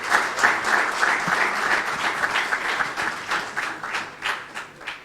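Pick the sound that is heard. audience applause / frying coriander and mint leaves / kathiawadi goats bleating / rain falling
audience applause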